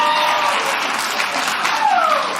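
A comedy stand-up audience claps in a dense, steady round of applause, with a whistle-like tone rising near the end.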